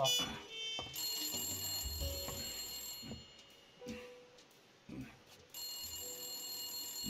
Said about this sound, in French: faut pas que le téléphone sonne à ce moment-là